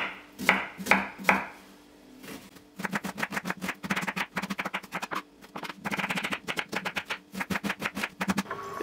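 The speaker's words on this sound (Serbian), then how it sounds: "izrezat ću luk na sitnije komade" A knife cuts two onions into small pieces on a board: a few slow, sharp strikes first, then fast rhythmic runs of close, crisp chops with short pauses between bursts.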